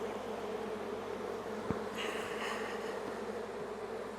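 Honey bees buzz around an open beehive, a continuous low droning hum with a few louder passes near the microphone and a brief knock, faint overall and without talk.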